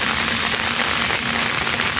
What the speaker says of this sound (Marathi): जाम पाऊस पडतोय